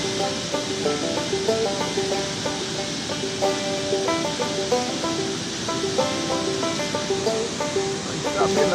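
Rain-swollen Patapsco River in Maryland rushing past, a continuous broad roar of moving water heard close by, with a melodic tonal pattern running over it.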